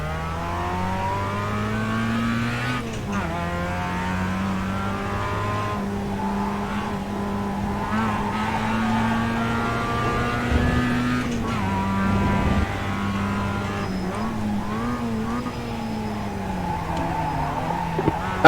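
A race car engine on the Brands Hatch circuit in a racing video game, held at a loud, steady drone with repeated rising revs and shifts throughout, close and continuous with no talk over it.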